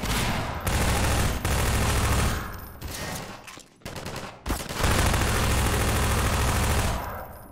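Rapid automatic gunfire from Half-Life 2 rattles in loud, dense bursts, broken by short pauses and a few sharp single shots between the volleys.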